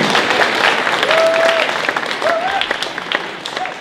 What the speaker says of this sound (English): So round of applause for Stanley.